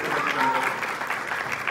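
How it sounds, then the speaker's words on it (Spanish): Applause for producer Lucero Suárez at the cast presentation of the telenovela Fugitivas, a dense continuous clapping from the audience with a faint voice briefly audible beneath it. "un fuerte aplauso"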